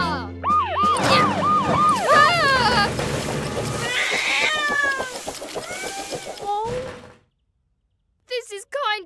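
Cartoon kitten stuck up a tree meowing repeatedly in high, rising and falling cries, mixed with siren-like tones and a voice, then falling silent before a few short meows return at the end.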